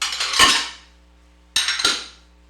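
Side plates and salad plates, a stack of restaurant dishes, clatter and clink together in two short bursts of handling with a pause between, close and fairly loud with no talking.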